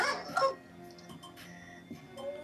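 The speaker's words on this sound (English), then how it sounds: "My dog." A dog lets out a short bark followed by faint yips and whimpers nearby, with quiet background sounds.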